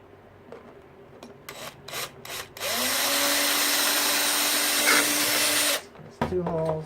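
A power drill whirs in a steady, loud burst lasting a few seconds while drilling holes in plastic, preceded by short scraping bursts and followed by brief rustling handling sounds.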